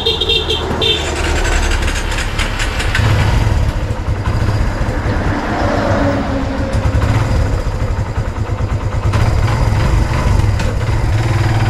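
A motorcycle engine idles loudly nearby with a steady, throbbing rumble, then revs and pulls away. Outdoor background noise runs underneath.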